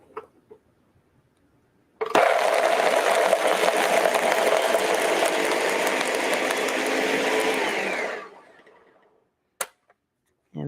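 A Ninja blender whirs loudly for about six seconds as it blends raw lasagna ingredients, its motor starting abruptly, holding a steady buzzing roar, then winding down, followed by a brief knock.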